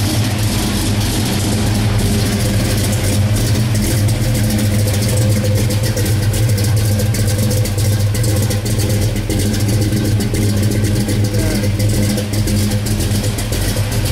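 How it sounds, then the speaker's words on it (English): A 1970 Plymouth Road Runner's big Hemi V8 rumbles steadily at close range through dual exhaust, a deep throaty note with slight surges in revs throughout, no voices. "You go hear the dual exhaust back here."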